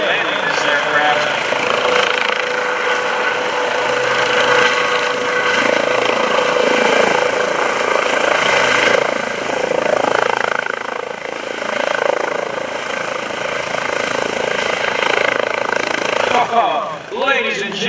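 A Eurocopter EC135 medevac helicopter comes in to land on a gusty day at an airshow, its rotor and turbine roar loud and sustained throughout, while an announcer talks over a PA.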